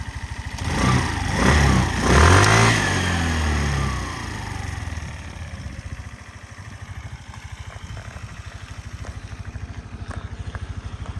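Suzuki Address V125 S scooter engine running steadily, with a revving swell in the first few seconds that settles into an even, close idle pulse; no talking.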